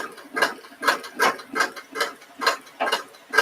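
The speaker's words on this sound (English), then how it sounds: "We're going to sew the whole line and then sew all the way back." A sewing machine stitches a seam in a steady, close, mechanical chatter of about eight rapid bursts, with no voices over it.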